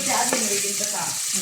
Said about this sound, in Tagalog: naglagay din ako ng mantika at nagisa na ako dito ng sibuyas